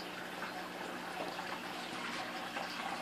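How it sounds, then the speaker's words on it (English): Water running steadily from a hydroponic drip system feeding strawberry tower buckets, a faint continuous trickle and splash throughout, with no talk. "Got our drip going."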